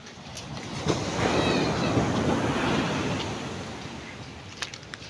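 Sea waves wash onto a beach in a steady rushing swell that rises and then eases, with faint scattered clicks and no talking.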